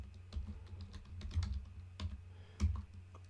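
Keys clack on a computer keyboard as an Ansible command for Cisco network gear is typed, with irregular clusters of close taps and a few heavier strokes over a low steady hum, no voices.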